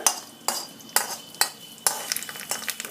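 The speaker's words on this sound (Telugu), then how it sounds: "ఈ వేడివేడి పోపు దీని మీద వేద్దాం." Hot oil tempering crackles and spits as it is poured over coconut chutney, followed by a series of sharp scraping stirs and clinks of a spoon against a pan.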